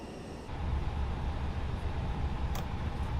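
A FlyByWire A320 airliner taxiing in Microsoft Flight Simulator 2024, heard as a steady low engine rumble and broadband hiss that swells slightly after the first half second, then holds constant with a brief high click near the end.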